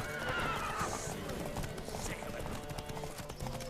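In The Witcher 3: Wild Hunt, rapid clip-clop of galloping hooves with a horse's whinny near the start, over a steady backdrop of game music and ambience.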